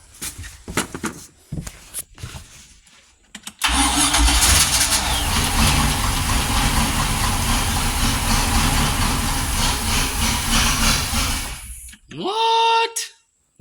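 An abandoned boat's engine cranks in short bursts, then catches and runs loudly at a steady rough roar for several seconds before cutting out with a falling whine.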